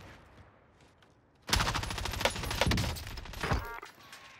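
Model 680 shotgun loaded with fire rounds in Warzone on Rebirth Island, blasting after a quiet lead-in: a loud, near burst of heavy gunfire with overlapping crackling shots that keep going for about two seconds and then fade.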